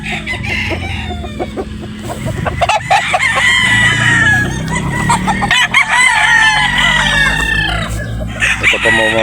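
A rooster crows loudly and repeatedly nearby at a gamefowl expo, with other fowl clucking and crowing in a busy, noisy background.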